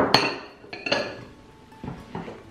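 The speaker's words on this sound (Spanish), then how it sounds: "Ahora cerramos nuestra botella." A glass bottle packed with eggs being closed for a homemade Valentine's gift, heard as a sharp clink followed by a few lighter knocks and taps of the lid, close and clear, with quieter rustling afterward.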